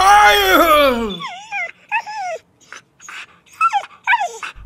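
Dogs escaping in a cartoon yip and whimper in short, high, rising and falling cries that repeat several times, close and fairly loud, after a brief burst of voice at the start.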